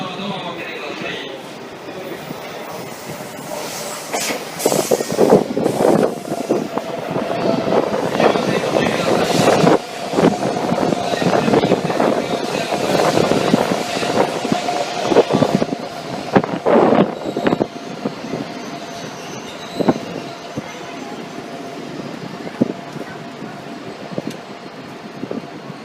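An electric train pulls into a busy station platform, its rumble and brake squeals echoing under platform announcements and a crowd's background chatter.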